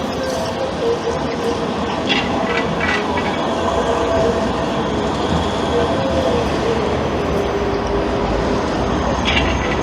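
A tram passes close by at Manchester Piccadilly station with a loud, continuous rolling rumble of wheels on rail. Brief high squeals rise above the roar now and then.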